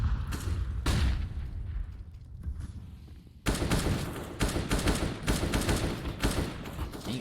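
Gunfire in a competitive Counter-Strike: Global Offensive match, dense rapid bursts of shots and booms crackling almost continuously, louder and busier in the second half, with no commentary over it.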